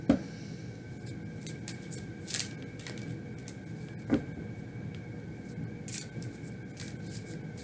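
Tarot cards being shuffled at a table, soft irregular riffles and taps, close but faint, with scattered clicks and a low steady background hum and no talk.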